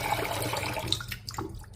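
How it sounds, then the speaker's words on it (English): Brief splashing of water poured into a clay pot of rice, a short close gurgle that tapers off within a couple of seconds. "So just put a bit more water."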